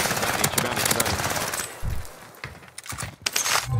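Video game gunfire in several rapid bursts, sharp and fairly close, coming in clusters separated by short quiet gaps and a couple of low thumps.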